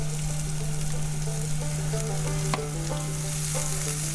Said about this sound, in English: We're going to keep tossing and turning the asparagus so that it cooks evenly